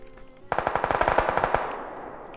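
A rapid burst of about a dozen gunshots in PUBG strikes a frying pan. The sharp, evenly spaced cracks are loud and close, and they trail off into a fading echo.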